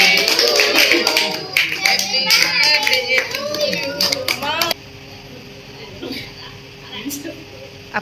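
Hand clapping from a small family group celebrating a child's birthday cake cutting, loud and steady for the first few seconds under adults' and children's voices, then stopping abruptly, leaving quiet room noise and scattered talk.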